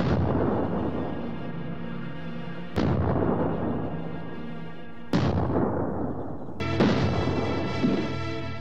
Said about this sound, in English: There's just a small explosion